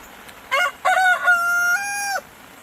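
A Wyandotte rooster crows once out in the rain, loud and close, a drawn-out call with a rising start and a long held note, over a soft steady hiss of rainfall.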